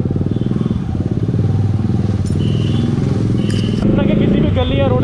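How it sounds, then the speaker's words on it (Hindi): A motorcycle with an aftermarket exhaust rides along a road, its engine a loud, close, steady throb that rises toward the end, with someone talking over it. "उसके बाइक का साउंड इतना है ना"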